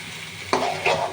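Brigate fish frying and being stirred in spiced masala in a pan, a steady low sizzle that swells with two louder bursts of stirring and spattering partway through.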